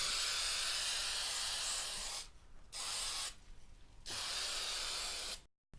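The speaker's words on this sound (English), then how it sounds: "just very gently do your spray paint" Aerosol spray paint hisses onto a leaf for a black and white centerpiece in three steady, close bursts of about one to two seconds each, separated by brief quiet gaps.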